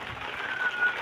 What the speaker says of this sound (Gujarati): આવ્યો વરસાદ